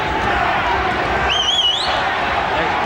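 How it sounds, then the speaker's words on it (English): A boxing arena crowd at a WBC super bantamweight title bout keeps up a steady, dense roar of chanting for a fighter, loud and continuous throughout, with a brief whistle rising above it. "The crowd is shouting Banke, Banke."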